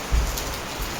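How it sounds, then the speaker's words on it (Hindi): Steady rain pours down in a village at night, a dense even hiss of drops on surfaces with no pauses and no voices. "घर तो पहुँच गए पर बरखा ना रुकी"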